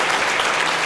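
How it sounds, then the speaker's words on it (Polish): Audience applause at a concert as a band member is introduced, a dense, steady wash of clapping filling the whole brief moment without any talk. "Duże brawa."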